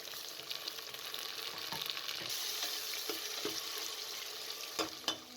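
Cumin seeds frying in hot oil for daal mash with tomatoes going in, a steady broadband sizzle punctuated by a few sharp spatters and stirring clicks, close and without voices.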